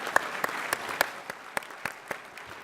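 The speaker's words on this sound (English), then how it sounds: "Please join me in a round of applause in recognizing these mayors and their programs." Scattered applause from a luncheon audience honoring mayors at a city livability awards event, a handful of sharp, separate claps spaced out and thinning toward the end.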